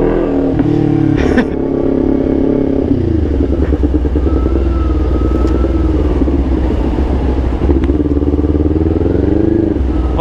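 A Kawasaki Ninja 400 sport motorcycle engine idles loudly and close, a steady low rumble with a brief rev near the start.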